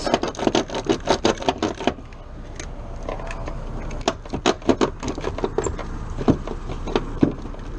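Tools and metal parts clatter and clink in uneven bursts at close range while a brake booster is worked loose and removed from a Corvette with Tuned Port Injection.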